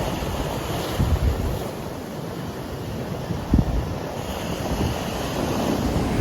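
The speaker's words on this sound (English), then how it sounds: "I'm down on the beach." Waves washing onto a beach on the Camino Finisterre in Galicia, a steady broad surf roar with wind buffeting the microphone and occasional louder gusts, no voices.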